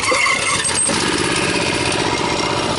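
A lawn mower engine fitted with a Chinese aftermarket Honda carburetor cranks and catches, then runs on as a loud, steady, buzzing roar close by.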